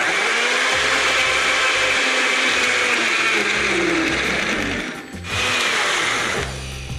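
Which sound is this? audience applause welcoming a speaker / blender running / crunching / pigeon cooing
blender running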